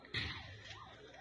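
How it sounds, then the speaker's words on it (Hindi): A siren wails across Belgorod after a missile attack, its rising and falling tone faint and distant, preceded by a brief sharper burst at the start. "चारों तरफ सायरन की आवाजें"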